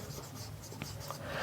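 Pen scratches on paper in short, quiet strokes, close by and alone for about a second and a half.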